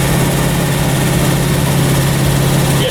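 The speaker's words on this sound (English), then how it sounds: "Yeah, it's got super nice idle." A car engine idles steadily and loudly with a new distributor cap and rotor fitted, a constant low rumble with a slightly high idle and no voices, running unbroken throughout.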